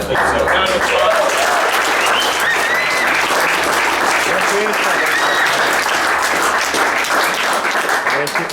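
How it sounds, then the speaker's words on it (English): A large audience at a startup pitch event applauds loudly and continuously, dense clapping with a few whistles and voices in the crowd throughout. "So round of applause."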